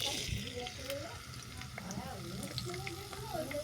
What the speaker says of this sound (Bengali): তেল গরম হয়ে গেলে তুলে দিচ্ছি গাজর